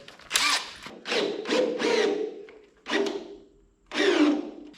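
Power drill running after its bit broke off in a hole, several short revving bursts of rising whine separated by pauses, loud and close.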